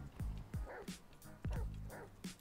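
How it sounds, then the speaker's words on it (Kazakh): A dog gives several quick, fairly faint barks and yips in two pairs, with no talking over them. "Үретін."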